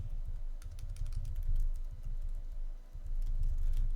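Rapid typing on a computer keyboard while entering a printf statement for a right-triangle program, a steady stream of close, soft key clicks with short pauses and no talking.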